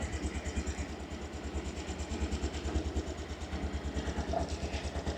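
A 2022 Honda Scoopy i Club12 scooter with its stock exhaust idles at close range, a quiet, even, rapid low putter that stays steady throughout.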